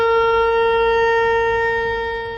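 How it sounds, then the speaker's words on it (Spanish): A shofar blows a tekiah, one sustained trumpet-like note that holds steady and loud and fades slightly at the end, with no talking. "Tequía. Es un sonido como de trompeta"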